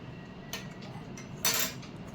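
A metal spoon clinks a few times against a bowl while stirring a face pack of lemon juice, coconut oil and yogurt, with one brighter scrape-and-tap near the middle, close and fairly quiet.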